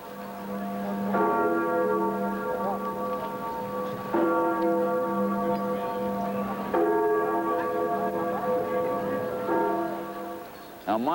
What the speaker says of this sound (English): then there was the sound of freedom bells.